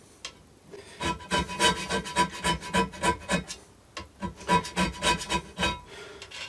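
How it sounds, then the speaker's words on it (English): A metal lathe surface being hand scraped gives rapid rhythmic rasping strokes in two bursts with a short pause between, close and clear with no talking. "I have been taught to go pushing, or to go the way I scrape, like so."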